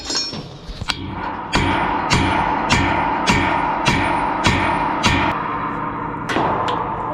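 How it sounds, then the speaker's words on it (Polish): A hammer taps on a sprayer tank in a steady series of about ten sharp metallic knocks, roughly one every half second, ringing against a low background hum. "Muszę też postukać młotkiem."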